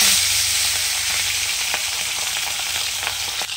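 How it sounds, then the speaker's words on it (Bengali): Fish head frying in hot mustard oil in a pan, a loud steady sizzle and crackle throughout with a few sharp pops and stirring scrapes, no voices. "আমার সরিষার তেল গরম হয়ে গেছে, দেখো আমি মাছটা দিয়ে দেবো।"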